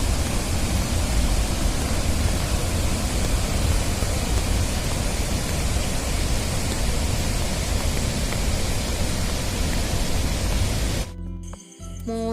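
The Athirappilly waterfall in Kerala roars during heavy rain as a loud, steady, broadband rush that fills the scene without a break, then cuts off abruptly at the end.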